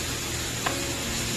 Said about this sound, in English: Frying